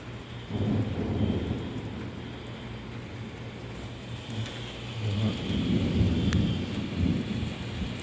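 Rain falls steadily over a dim outdoor scene in Saudi Arabia while low rumbles of thunder roll in and swell, first near the start and again more strongly in the latter half.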